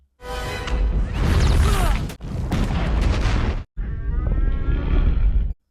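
A film scene in which a giant monster's egg nest in an underground chamber explodes and burns: three long, loud, roaring blasts with crackling debris, separated by brief near-silent cuts.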